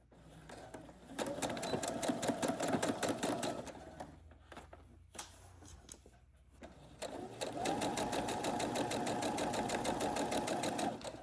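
A sewing machine stitches the fabric of a drawstring storage bag with its lining, running in a close steady whirring rattle for several seconds, pausing with a few soft handling clicks, then starting up again.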